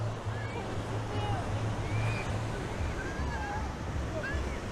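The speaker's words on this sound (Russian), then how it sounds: "какой пляж!" Surf washes onto the beach at Fañabé, Costa Adeje, Tenerife, as a steady, even roar with some wind on the microphone and faint distant voices.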